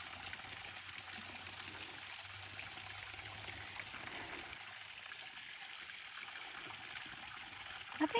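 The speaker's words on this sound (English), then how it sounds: "let's just enjoy the waterfall for a moment." A waterfall on the Suwannee River along the Florida Trail gives a steady, even rush of falling water, broad and continuous, with no voices.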